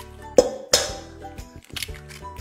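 Two eggs are mixed with powdered sugar in a bowl, heard as two sharp clinks of a utensil against the bowl followed by softer scraping and tapping, close and with no voices.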